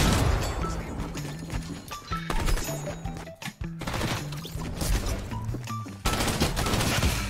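Rapid gunfire in a video game shooter, dense bursts of automatic shots and impacts crackling continuously, loud and busy with brief gaps, with a faint voice now and then.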